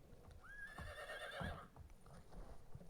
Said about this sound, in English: Not just so you guys could hear it whinny in your ear first thing in the morning.